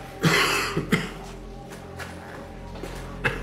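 A person coughs repeatedly in short, harsh bursts spaced irregularly across a few seconds, close and fairly loud against a quiet indoor background, with a bit of throat clearing.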